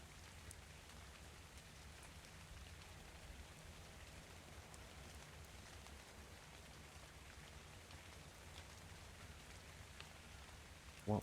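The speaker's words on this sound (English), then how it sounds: "The in-game rain sound is not helping matters either." Steady in-game rain from Ark: Survival Evolved, a constant soft hiss of falling drops with a low rumble underneath, even and unbroken throughout.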